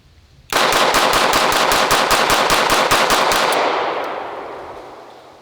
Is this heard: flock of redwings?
no